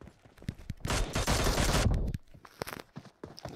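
Gunfire in a shooter video game: a sustained burst of rapid automatic shots lasting about a second, loud and dense, with scattered single shots and faint game noise before and after.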